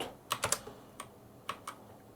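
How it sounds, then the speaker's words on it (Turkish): A few crisp key clicks on a mechanical keyboard, a quick cluster then isolated taps, close up and quiet, no voices. "Hem klavyenin sesini dinleteyim"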